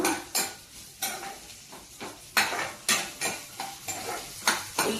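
Onions, curry leaves, green chillies and ginger frying in hot refined oil, a soft sizzle broken by about a dozen sharp scrapes and knocks of a spoon stirring in the pan.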